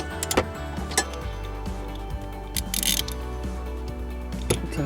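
A ratchet turns a 10 millimeter bolt on a Porsche Cayenne during battery work, giving a series of sharp, irregular clicks close by over a low steady hum, with no talking.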